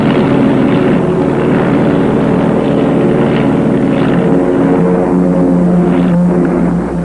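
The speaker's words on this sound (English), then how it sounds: "The Luftwaffe crosses the English coastline." A German Luftwaffe propeller aircraft droning overhead, a loud, steady, continuous engine roar that holds evenly close by throughout with no voices.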